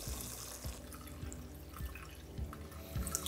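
Water poured from a container into a pan of mustard tilapia curry simmering in oil, a steady splashing pour with small drips, close and fairly quiet, with no voices.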